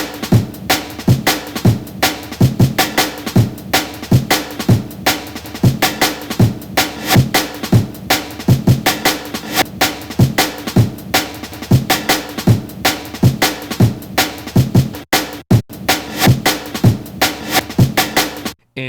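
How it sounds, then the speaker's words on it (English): Soul Pride break time-stretched to 158 BPM, chopped and resequenced into a fast jungle drum pattern: loud, busy kicks, snares and crisp hats in continuous rolling rhythm with a brief dropout near the end. "once we stretched it to 158 BPM, chopped it up and resequenced it, sounds a little bit like this."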